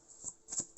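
Playing cards being shuffled and drawn in two short, soft riffling bursts close by in a quiet room.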